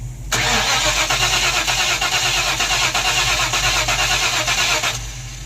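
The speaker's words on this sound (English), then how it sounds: "Try to crank it." A 1994 convertible's engine cranking with weak spark, a loud continuous rhythmic churn of the starter turning the engine over for about five seconds without catching, close up and alone.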